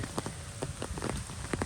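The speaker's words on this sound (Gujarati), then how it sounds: "તમે જોઈ શકો છો વરસાદ ફૂલ છે" Heavy rain pours down at the Matheran hill station, a dense, steady hiss of drops hitting the road and an umbrella, heard close up with scattered louder splats.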